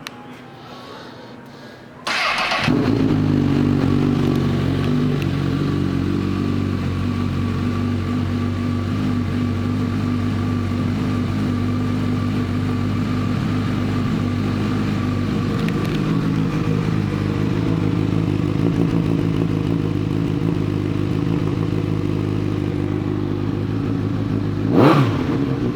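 A 2014 Honda CB1000R motorcycle engine starts after a couple of seconds and then idles steadily, loud and close, with a brief sharp rev near the end.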